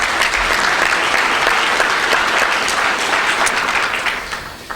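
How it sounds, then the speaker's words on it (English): A room full of people at a chamber of commerce breakfast applauds loudly and steadily for several seconds, the clapping thinning out toward the end. "Let's have a round of applause for them."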